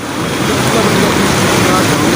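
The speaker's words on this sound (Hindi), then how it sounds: "ये देख सकते हो छोटा सा झरना वाटरफॉल" A small mountain waterfall in Dharchula gives a loud, steady broadband rush of falling water, close and unbroken, with some wind buffeting the microphone.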